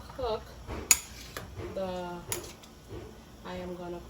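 A cooking pot is handled and checked on the stove, with a sharp metallic clank and a few lighter knocks and scrapes scattered between a person's speech.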